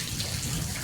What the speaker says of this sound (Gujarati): જો વરસાદ વધતો જાય